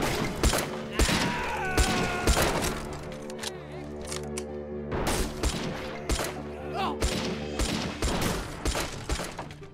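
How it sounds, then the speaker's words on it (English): Rapid rifle gunfire from an M1 carbine in the Army Men of War video game, sharp cracks in quick bursts amid a dense battle din, loud and continuous across the scene. "I love the sound of that rifle. The M1 carbine."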